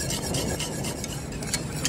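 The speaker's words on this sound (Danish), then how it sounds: "Vi er ved med at røre rundt i den, imens man koger den op." A whisk or spoon stirs velouté sauce in a pot as it comes up to a boil, giving a steady close scraping and rubbing with soft bubbling, with no talk.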